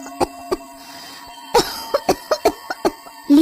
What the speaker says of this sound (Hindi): पर खांसी ने तो सांसें ही उखाड़ दी।